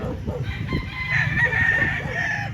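A gray gamefowl rooster crows loudly and close by on a farm in Lipa, Batangas, one sustained call held for about two seconds.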